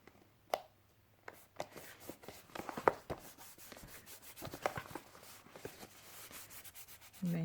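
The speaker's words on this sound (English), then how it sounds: "And then just rub along those edges" Fingers rubbing and pressing along the folded paper edges of a belly band during a craft demonstration, giving soft, close scratchy strokes with a few sharper taps, alone at low level.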